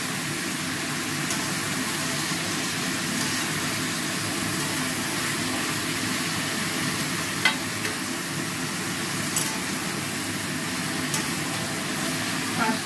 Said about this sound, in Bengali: তো এটা ভালো করে এখন ভেজে লাল করছি।